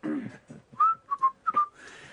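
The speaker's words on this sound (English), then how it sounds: "10 feet away, I will whistle." A person gives a few short, clear whistled notes with rising, sliding pitches, close by and isolated after a brief breathy start.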